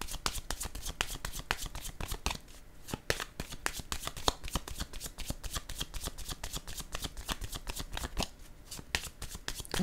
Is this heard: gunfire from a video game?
no